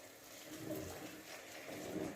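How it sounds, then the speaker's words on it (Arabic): Hot water poured from a kettle over a kilo of dried fava beans with a splash of vinegar in a home kitchen, a steady close gush of liquid with no talk. "وهنزل بالميه السخنه"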